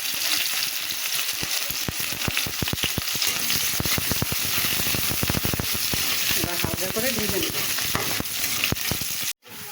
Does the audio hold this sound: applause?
no